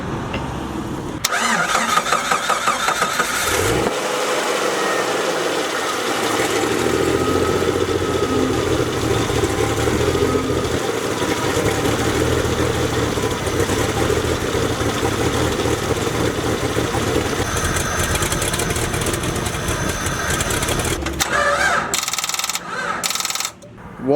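Car engine cranking on a jump start with a newly fitted alternator, then catching and running loud and steady close by for about twenty seconds before cutting out.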